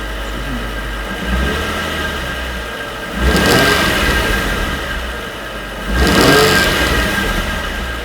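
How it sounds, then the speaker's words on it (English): Heavy low rumble from a worn Nissan 350Z gearbox with a suspected failing input shaft bearing, a steady drone that swells louder twice as the engine note rises, close and without talk. "You can get this heavy rumbling from the gearbox."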